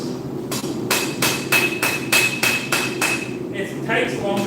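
A hammer strikes steel while forging, about nine evenly spaced, ringing blows close by, a regular metallic rhythm that stops near the end.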